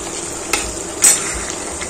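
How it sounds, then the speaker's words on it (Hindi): Onions frying in a pan over raised heat for handi mutton, a steady close sizzle with a couple of brief stirring scrapes and clinks, no voices. "अब टेम्परेचर को थोड़ा बढ़ा देती हूँ मैं, ताकि ऑनियन अच्छे से फ्राई हो सके।"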